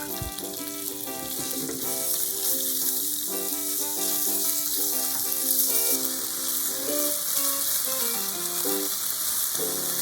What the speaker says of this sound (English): Stir fry the pork.